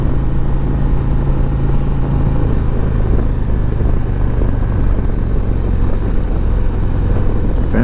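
A 2023 Harley-Davidson CVO Road Glide cruiser drones steadily while being ridden, its engine roar blended with heavy wind rush and staying loud and constant the whole way through.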